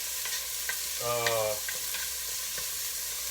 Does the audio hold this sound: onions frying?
yes